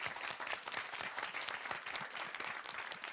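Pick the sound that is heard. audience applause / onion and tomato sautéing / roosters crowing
audience applause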